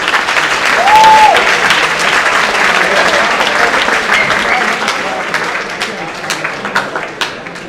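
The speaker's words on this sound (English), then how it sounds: "Round of applause for both our candidates." Audience applause at a 2018 Mountaineer Boys State evening assembly, a loud, dense crowd clapping that swells early and then slowly thins, with scattered sharper claps toward the end.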